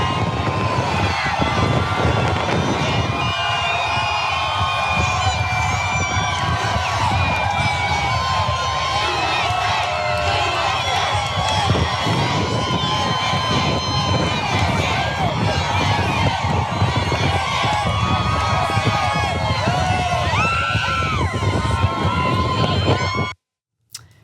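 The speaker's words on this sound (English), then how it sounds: "his White House social media director also posted a video of the crowd on social media" Outdoor crowd at a presidential rally, a dense, continuous roar of cheering and voices with wind buffeting the microphone, steady and loud throughout before cutting off abruptly near the end.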